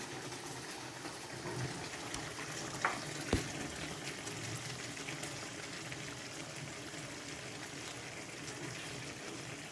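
Hilsa fish going into a pan with a little water and oil, cooking with eggplant: a steady low bubbling, frying hiss at moderate level, with a couple of brief clinks partway through and no talk.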